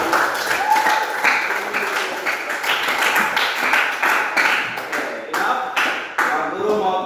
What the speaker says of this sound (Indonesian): Ya, applause for all. Tepuk tangan.